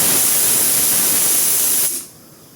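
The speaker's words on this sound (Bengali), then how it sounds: "প্রেসার কুকারে 2 থেকে 3টা সিটি মারতে হবে" Steam hisses loudly from a pressure cooker whistle in a strong, steady rush for about two seconds, then cuts off abruptly to a faint residual hiss. No talking.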